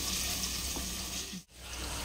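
Steady sizzling of masala frying in a hot pan for crab curry, a continuous crackling hiss with a brief dip partway through.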